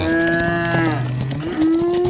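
Cattle bawling loudly and close by, a couple of long, drawn-out moos that slide and waver in pitch, one overlapping the next with no pause between them.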